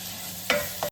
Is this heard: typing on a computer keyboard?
no